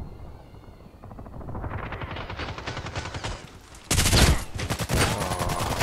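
Pump-action shotgun blasts ring out in the online shooter Contract Wars, amid a rapid, crackling firefight whose volume builds, with one loud, close shot standing out near the end, and no voices.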